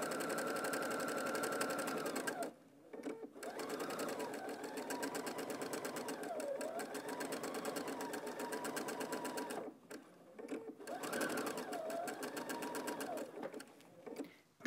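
A sewing machine stitches a Christmas stocking in steady fast runs, stopping briefly twice as the needle is left down to pivot, then resuming its close, even whirring chatter.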